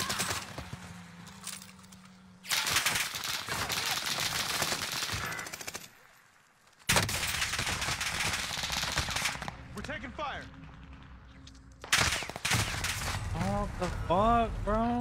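Video game gunfire, dense bursts of rapid automatic shots in long loud stretches separated by brief quiet gaps, with voices talking and chatter over parts of it.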